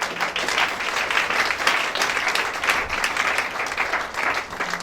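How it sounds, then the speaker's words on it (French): Sustained applause from a gathered crowd at a funeral ceremony, many hands clapping in a thick, even roar that holds steady for several seconds with slight rises and dips. "Des acclamations."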